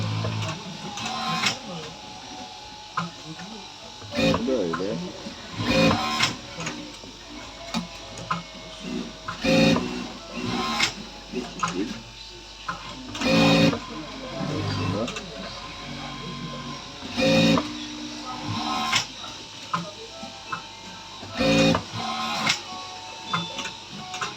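A sewing machine stitching a jacket collar runs in short mechanical bursts of rapid ticking, stopping and restarting over about twenty seconds, close and fairly loud, with a person talking between runs.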